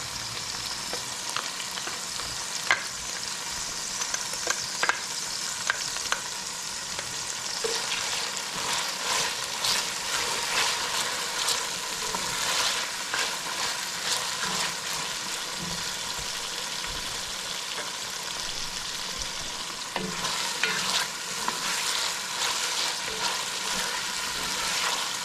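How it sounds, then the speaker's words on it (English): Garlic and pepper frying in a pan for fried karela (bitter melon), a steady, dense sizzle that holds throughout with occasional crackling pops and stirring, close and fairly loud, no voices. "I'll put in the garlic and the pepper now."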